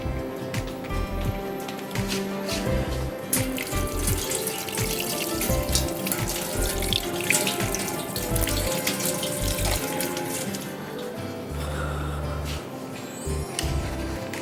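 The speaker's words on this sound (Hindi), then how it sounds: "मैं ज़रा हाथ धो लूँ।" Tap water runs steadily into a kitchen sink as hands are washed, a continuous close splashing rush with small shifts in flow, no talking over it.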